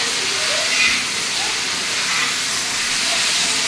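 Garlic paste hitting hot oil gives a steady, broad hiss and crackle that holds evenly from start to finish, with faint voice-like traces underneath.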